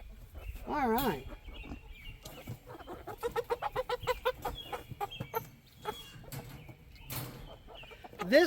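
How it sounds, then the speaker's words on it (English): Rooster clucking in a mixed backyard flock, a run of close rhythmic clucks and a squawking call, with other chickens murmuring around. "This one is a rooster."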